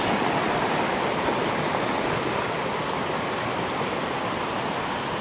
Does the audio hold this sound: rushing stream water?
yes